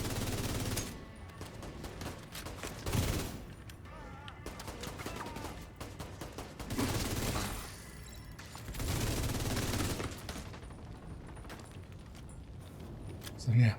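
Bursts of video game gunfire aimed at the player in a fiery indoor scene, rapid shots coming in several loud clusters, with talking over them.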